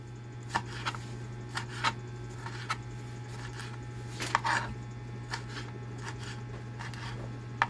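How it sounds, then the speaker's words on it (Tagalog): Irregular knife chops through onion and tomato on a cutting board, sharp taps spaced apart with brief pauses, close and fairly crisp over a steady low hum. "Hiwa lang po ako ng sibuyas at saka kamatis."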